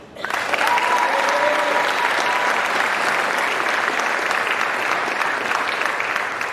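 Sustained applause from a graduation audience fills the space at a steady, dense level, starting abruptly and holding evenly throughout with no voices above it.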